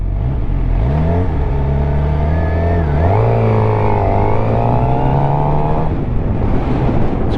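A motorcycle ridden on UK roads accelerates hard, its loud engine note climbing through the revs in a rising whine, dipping briefly at a gear change, then pulling up again before easing off, close and dominant under wind noise.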